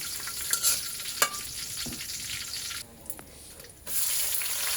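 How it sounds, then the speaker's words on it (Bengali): Chopped onion frying in a pan with cumin and whole garam masala, a close steady sizzle with a couple of sharp clinks, briefly dropping quieter before the frying hiss resumes, no talk. "এই পর্যায়ে দিয়ে দেব পেঁয়াজ কুচি"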